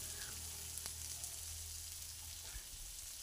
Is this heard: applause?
no